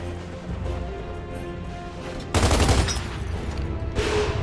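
A single loud, close gunshot with a sharp crack and brief ringing tail rings out in Gears of War 2, set against a steady low ambient drone.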